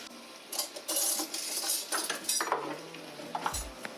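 Pimento seeds are crushed in a home kitchen while ackee and saltfish is cooked, giving scattered sharp clicks, scrapes and knocks against a hard surface. A brief low clunk of cookware comes near the end.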